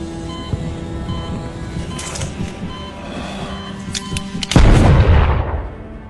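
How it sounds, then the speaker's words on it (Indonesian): Dense, continuous gunfire and explosions rumble through, with sharp cracks and a heavy booming blast near the end, loud and close. "Mendengar suara tembakan"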